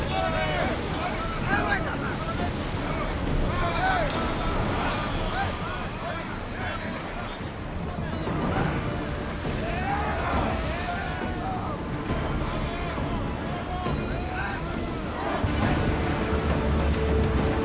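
A warship under full sail in Assassin's Creed Odyssey, steady wind and rushing waves against the hull, loud and continuous, with voices shouting over the sea.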